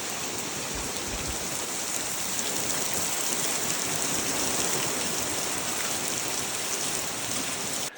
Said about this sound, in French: Mais je suis arrivé pendant la grosse pluie